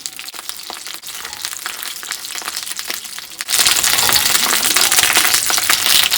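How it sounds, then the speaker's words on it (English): Dried chilies frying in a pan, a steady crackling sizzle that jumps abruptly louder and denser partway through when they are flipped to fry on the other side. "we're going to go ahead and flip them so that they can fry on both sides"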